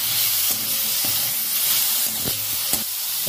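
Pineapple pickle with turmeric is stirred in a pan and hisses with a steady sizzle, and several sharp knocks of the spoon against the pan come through it.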